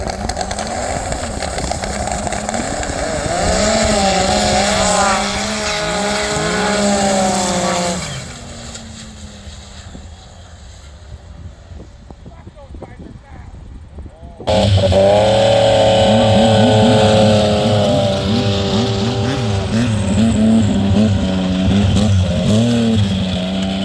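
A drag race car revs hard with rising, stepped engine tones before dropping to a quieter idle; then another loud, sharp launch roars on full throttle down the strip.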